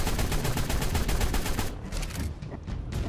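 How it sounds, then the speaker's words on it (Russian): Rapid automatic gunfire in ARK Survival Evolved, a loud, steady stream of shots for about a second and a half, then sparser bursts trailing off. "Да я тут стреляю."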